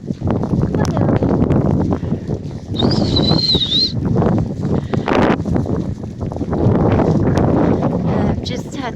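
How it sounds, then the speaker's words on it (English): Strong wind buffets the microphone during a stormy afternoon walk outdoors, a continuous loud rumbling roar throughout, with a faint high whistle-like tone briefly above it. "that wind is biting this way"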